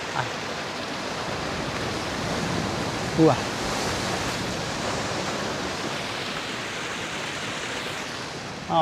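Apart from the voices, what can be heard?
waves crashing at Figure 8 Pools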